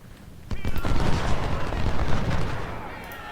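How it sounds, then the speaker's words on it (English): Musket volleys from a Ultimate General: Civil War battle, a dense rolling crackle of massed gunfire that erupts suddenly and carries on loud and continuous for several seconds. "Siegfried and Hatch are opening fire"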